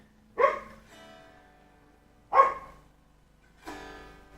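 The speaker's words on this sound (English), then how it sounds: "Dog's barking again." Three separate dog barks spaced about a second or more apart, the first two sharp and loud, the third a bit softer, each followed by quiet room tone with no talking.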